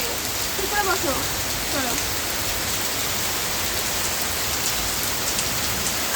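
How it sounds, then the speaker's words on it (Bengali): Heavy rain pours down outdoors in a steady, loud, dense hiss that fills the whole scene without letting up, with a faint brief voice-like tone near the start. "আরে বাপরে ভীষণ বৃষ্টি নেমেছে"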